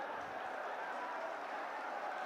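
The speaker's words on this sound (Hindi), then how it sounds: "जोरदार तालियां बजाएं आप सभी" A crowd claps steadily to welcome Rahul Gandhi at a Mewat rally, a dense, continuous wash of applause that holds at an even level throughout.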